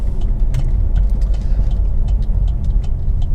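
Vauxhall Mokka 1.7 CDTi diesel driving over road bumps, a steady cabin rumble of road and engine noise punctuated by a rapid series of short knocks and thumps from the chassis.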